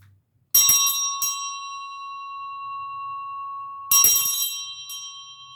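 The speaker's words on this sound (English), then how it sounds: "Let's ring the bell." An old bell struck twice, each strike a bright metallic clang ringing out with a long sustained tone that slowly decays, the second strike a few seconds after the first, with no talking.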